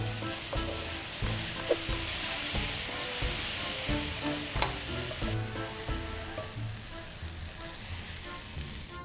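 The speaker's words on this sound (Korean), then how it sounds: "충분히 볶아주신 다음에 청양고추 볶아주시면 돼요" Chopped cheongyang chili peppers stir-fry in a hot pan, giving a steady close sizzle and hiss broken by scrapes and knocks of stirring.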